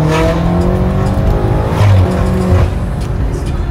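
A German car, called a 540, in Krasnodar roars loudly and close by with the engine revving throughout, while tires squeal briefly in bursts.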